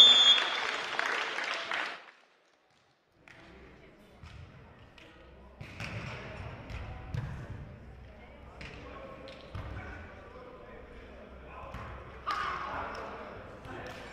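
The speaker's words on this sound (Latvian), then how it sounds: "aplausi Dēvienam" An audience at a beach volleyball exhibition match in Latvia breaks into loud applause, which cuts off abruptly. Quieter court sounds follow, with scattered thuds and crowd murmur, while a commentator talks over them.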